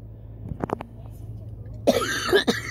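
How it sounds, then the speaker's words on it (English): A five-year-old girl coughs up close: a few short, quick coughs, then a pause and a rougher, throatier burst of coughing. "She's coughing."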